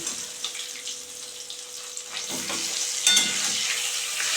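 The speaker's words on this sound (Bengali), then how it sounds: "মাছগুলো ভাজা হয়ে গেছে এখন আমি তুলে নেব" Koi fish fry in a pan of oil with a dense, close sizzle. The hiss grows slightly louder and sharper toward the end, and no voices are heard.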